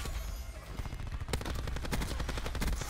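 Rapid, sustained bursts of light machine gun fire hip-fired in Black Ops 4, a dense run of loud repeated shots filling most of the stretch.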